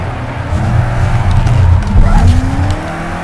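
A BMW M6 GTE in Project Cars 2 slides through a corner at the Nürburgring GP circuit, its engine droning close and loud while tires squeal and scrub, then the revs climb and fall as the car drifts.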